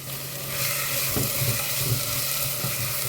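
Chicken pieces sizzling and frying in a pan with turmeric for a chicken and drumstick curry, a steady loud hiss with a few stirring knocks, no talking.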